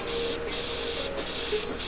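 An airbrush spraying paint, cut back with a MAC valve, giving loud steady hissing bursts broken by two brief pauses, with no talking.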